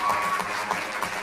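A school board meeting audience claps and cheers in a short, dense burst of applause filling the room, with no voices standing out.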